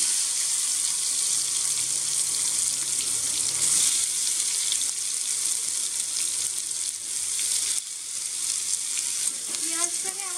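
Onions frying in hot oil for a Bengali fish dish, making a continuous loud sizzle and hiss close by, with faint stirring scrapes and a brief watery trickle toward the end.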